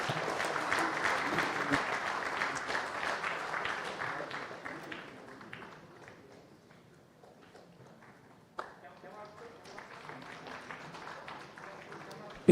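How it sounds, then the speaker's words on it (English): Audience applause at a managerial excellence awards ceremony for manufacturing sector winners, a dense sustained clapping from a large hall crowd that fades out, followed by quieter room sound and a voice over a speaker system. "Give them a round of applause, ladies and gentlemen."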